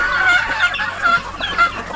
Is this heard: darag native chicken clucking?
yes